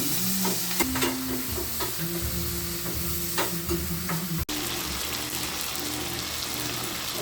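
Munggo (mung beans) with shrimp fry in a pan, a crackling sizzle broken by repeated scraping and stirring knocks, close and fairly quiet, with one sharp clack midway.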